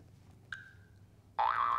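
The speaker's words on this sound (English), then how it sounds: "Let's show you the Jack in the Box." A jack-in-the-box in a children's alphabet app makes a short springy boing, followed a moment later by a louder wobbling, warbling spring tone that runs to the end.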